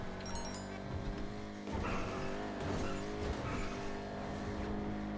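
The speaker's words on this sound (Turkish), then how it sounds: "Araba çok hızlı arkadaşlar görüyorsunuz." A Vigero ZX muscle car, modeled on a Camaro, races at high speed in GTA 5 Online, its engine roaring steadily with shifting tones and brief tire noise throughout, loud and continuous with no talk.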